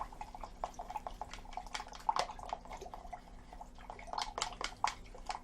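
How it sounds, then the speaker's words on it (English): A homemade gesso mixture with PVA glue is stirred in a container, giving soft, quiet wet clicks and sloshes in an irregular rhythm, close and with no talk. "So we need to give that a really good stir now,"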